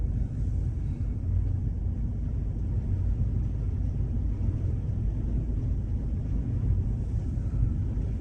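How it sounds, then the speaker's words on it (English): Ferocious wind buffeting a parked car on a roadside, a loud low rumbling roar against the microphone that gusts and surges continuously for about eight seconds with no voices. "That is the wind."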